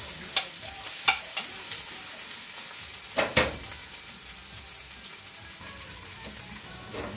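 Chicken tinola being stirred in a pot with garlic and ginger, giving a soft steady sizzle broken by a few sharp scraping clacks of the spoon against the pot.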